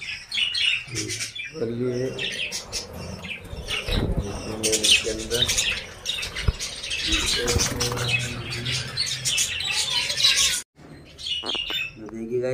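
Pet birds in a cage with three or four chicks chirp and tweet almost continuously at close range, the thin, busy calls overlapping with occasional wing flutters while someone talks over them.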